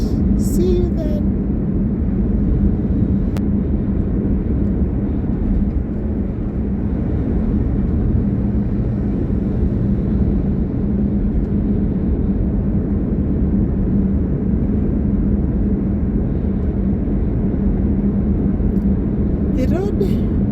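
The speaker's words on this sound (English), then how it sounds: "The road going to town is so busy. As you can see, there's a lot of traffic jam." Heavy traffic on a busy, jammed road into town makes a steady, dense rumble of engines that continues without a break, with no talking.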